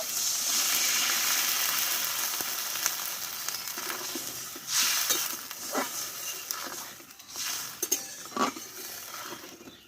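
Water poured into a pan of sizzling jujube chutney, a loud hiss that settles into bubbling simmer with scattered clinks and scraping of a spoon, close and with no talking.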